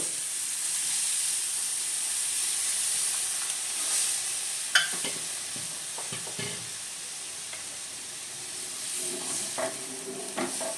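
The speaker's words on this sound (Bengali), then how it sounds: "হয়ে গেছে এখন দিয়ে দিচ্ছি জল" Water poured into a hot cooking pan sets off a steady, close sizzling hiss with a few sharper sputters and stirring scrapes, continuing without any talk.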